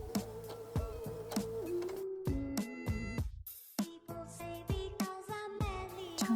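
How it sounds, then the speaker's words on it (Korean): An embroidery sewing machine back-stitches fabric as it starts a seam, giving quick bursts of mechanical whirring and tonal motor whine that break off and restart several times at close range, with no talking. "노루발 내리시고 바늘 내릴게요. 그리고 되돌아받기 2번만 해줄게요."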